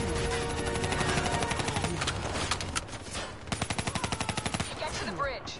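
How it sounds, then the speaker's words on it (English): Gunfire in the video game Call of Duty 3: rapid automatic bursts rattle in quick, regular strings with short pauses between, loud and close, mixed with other battle effects and some voices. "Give me some cover fire."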